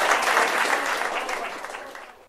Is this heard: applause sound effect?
yes